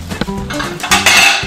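Dishes clatter as a white microwave-safe plate is pulled from a stack in a kitchen, with a few close, bright clinks and scrapes of crockery and cutlery over about a second and a half.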